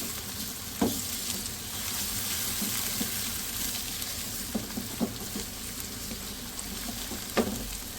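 Pulao ingredients with garlic-ginger paste roasting in a pot, a soft continuous sizzle broken by occasional light taps and scrapes of a spoon.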